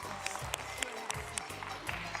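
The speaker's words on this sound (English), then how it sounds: "give her a big round of applause" Audience clapping for a girl after a trick at a children's Egyptian-curse themed show, a soft, scattered patter of hands with some louder claps, heard through a voice that continues over it.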